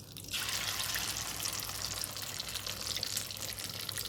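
Meat pakoras for chilli chicken frying in hot oil, a loud, dense, continuous crackling sizzle held close throughout with no voices.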